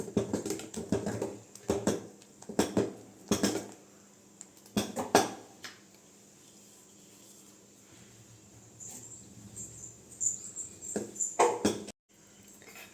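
A spoon stirring coconut into urad dal porridge in a metal pot, giving bursts of clinking and scraping against the pot separated by quiet pauses, with faint background hiss.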